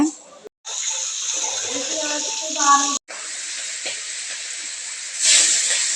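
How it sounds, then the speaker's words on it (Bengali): Fish sizzles and hisses steadily in hot oil in a home kitchen, a loud continuous frying sound broken by two brief gaps, with a voice talking over it. "এখন মাছ ভেজে নিচ্ছে মিঠি"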